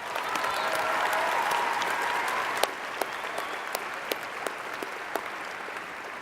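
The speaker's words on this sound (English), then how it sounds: "Please give them all a round of applause." Applause from an audience at a high school graduation ceremony, a steady wash of clapping from a large crowd that slowly thins, with scattered individual claps standing out near the end.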